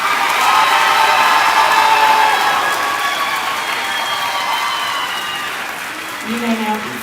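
A crowd at a 2023 high school graduation ceremony claps and cheers for graduating students, a loud sustained ovation with whoops that slowly fades, voices rising over it near the end.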